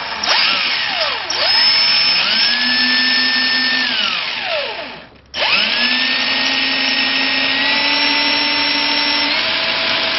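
Power drill with a sharp bit boring into wood during warehouse wiring work, a loud close whine that spins up, bogs down and drops off, pauses briefly, then starts again and runs steadily.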